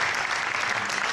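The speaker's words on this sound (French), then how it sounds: "applaudissements pour Enzo." Studio audience applauding on a live French television variety show, a dense, steady wash of clapping that holds at full strength for the whole moment with no voices over it.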